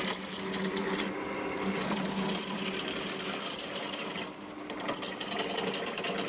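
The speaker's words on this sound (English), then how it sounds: "Using my roughing gouge." A roughing gouge cuts locust wood spinning on a lathe, a continuous close scraping and rasping with the tool's pressure shifting slightly in a few places.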